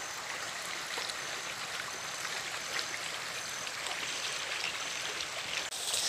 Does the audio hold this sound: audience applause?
no